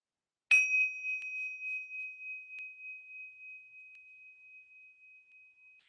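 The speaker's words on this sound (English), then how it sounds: "using the sound of the bell to focus" A single meditation bell is struck once, giving a bright, clear ding that rings out alone in silence and decays slowly over several seconds.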